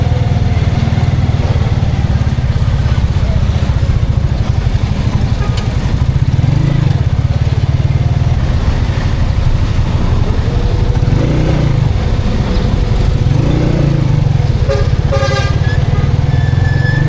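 A motorcycle engine runs steadily during break-in riding around San Jose City, a constant close buzzing drone that swells and eases several times, with a few brief horn toots near the end.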